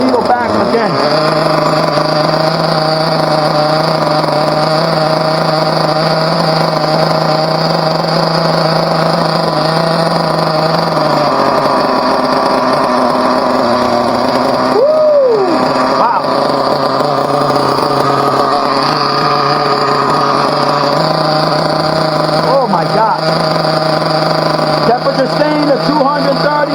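A Team Associated RB model engine runs during break-in with a loud, steady, high-pitched buzzing whine close by. Its pitch wavers and dips briefly midway before settling back to a constant drone.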